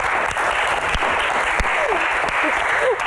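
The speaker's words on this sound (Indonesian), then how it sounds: "Tepuk tangan dong." Steady applause from a stage show audience fills the whole stretch, dense and even, with a few faint voices rising briefly through the clapping.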